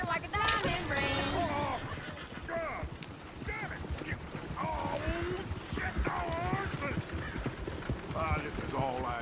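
Horse hooves in the Red Dead Redemption 2 video game, clip-clopping steadily and close by, with whinnies and snorts, heard under people talking and singing.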